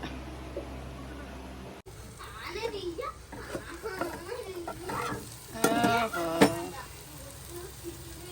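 Goat brain fry is stirred in a pan, with soft sizzling and scraping stirs heard close up under overlapping chatter from several voices, including a child's.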